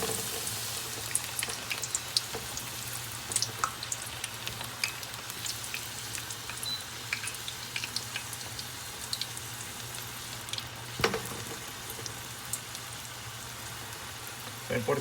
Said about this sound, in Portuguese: Eu vou fritar esse alho poró